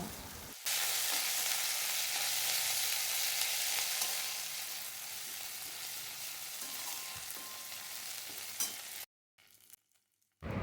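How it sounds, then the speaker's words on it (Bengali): Ginger-cumin paste and spices sizzle loudly in a pan with a little stirring, cooked for a pointed gourd curry. The sizzle stops abruptly near the end and leaves a brief quiet. "আদা জিরে বাটাটা দিয়ে আমি বেশ মশলাটা একটু কষিয়ে নেব"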